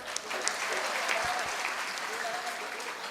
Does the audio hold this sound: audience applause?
yes